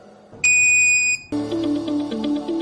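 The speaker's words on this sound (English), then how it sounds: "we will take the magnet detector near to it and we can hear the beep sound." A magnet detector emits a sharp, loud high-pitched beep lasting under a second, followed by a buzzing alarm tone that pulses rhythmically.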